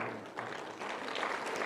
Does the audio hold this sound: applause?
yes